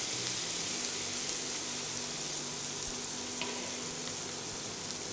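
Garlic sizzling steadily in a pan with butter and chanterelle mushrooms over lowered heat, a continuous bright frying hiss with faint crackles throughout.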